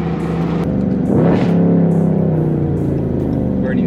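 A Dodge Charger 392 Scat Pack Widebody's V8 engine roars loudly and close up, swelling in a brief rev before settling back into a heavy, steady rumble.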